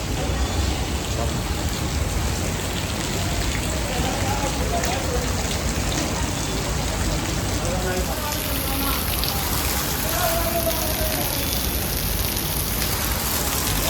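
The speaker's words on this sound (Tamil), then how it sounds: "அதே மாதிரி மழை பயங்கரமாக பெய்யுது." Heavy rain pours down in Vellore with a dense, constant hiss and patter of drops on surfaces that continues steadily throughout.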